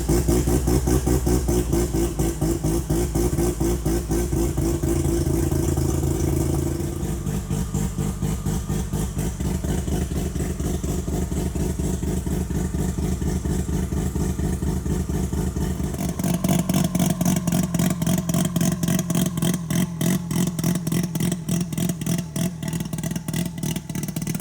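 Mazda RX7 rotary engine running steadily on light throttle, a loud, close, pulsing drone with a rapid rhythmic chatter, shifting in pitch partway through and rising slightly toward the end.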